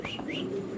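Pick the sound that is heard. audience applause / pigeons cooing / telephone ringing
pigeons cooing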